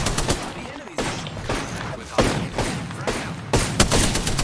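Rapid bursts of video game gunfire crackle in quick clusters, loud and close, with brief pauses between volleys while players talk over the shooting.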